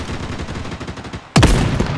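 Gunfire in the mobile shooter Project: BloodStrike: rapid shots rattle in a fast, steady stream, then a much louder, closer burst suddenly takes over partway through.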